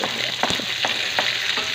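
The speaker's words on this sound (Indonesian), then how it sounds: "kita masukkan bawang merah sama bawang putihnya, aku campur saja" Shallots and garlic frying together in a hot wok, a loud steady sizzle with quick scraping stirs at a regular pace.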